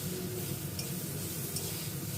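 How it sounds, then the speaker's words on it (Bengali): Spice mix for ghugni being stirred in a pan: a soft, continuous scraping and light sizzle, quiet and close, with a couple of faint clinks and no talk. "নাড়াচাড়া করে নিচ্ছি।"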